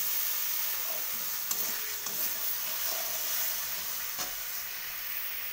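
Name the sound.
spice masala being sautéed in oil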